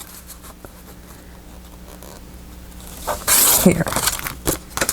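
Scissors cut through a recycled paper bag in a few crisp, rustling snips near the end, following quieter handling; a voice briefly speaks.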